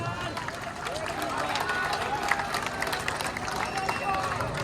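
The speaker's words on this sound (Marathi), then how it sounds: "टाळ्यांचा प्रतिसाद द्या त्या गोविंदाला" A crowd at a Dahi Handi festival in Uran cheers and claps for a Govinda team, a dense, loud roar of applause and shouting with voices mixed through it.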